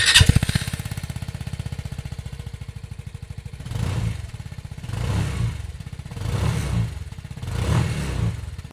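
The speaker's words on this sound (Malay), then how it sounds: "Dan inilah bunyi Brixton Mocha." A Brixton Moucca 250 scooter engine runs steadily at close range with a rapid, even thrum, then gets four or five throttle blips that swell and fade in a regular rhythm, with no talk over it.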